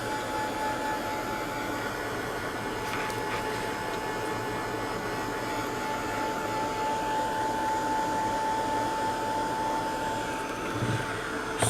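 A hair dryer blows steadily on a mixed media art book page, giving a loud, continuous whirring hiss with a faint whine that holds unchanged throughout with no talking.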